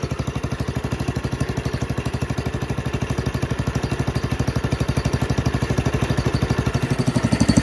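A Cub Cadet Original lawn tractor engine runs close by with a steady, rapid thumping putter that grows slightly louder toward the end, no voices.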